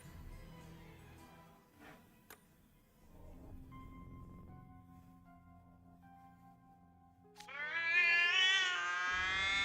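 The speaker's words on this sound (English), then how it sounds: "Jeez, my ears with the cat noise." A cartoon cat in the video game Twisted Wonderland meows loudly and shrilly near the end, rising over game music and sound effects.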